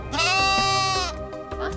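A sheep gives one long, wavering bleat close by, with the flock around it in the Barossa Valley and a fainter bleat near the end.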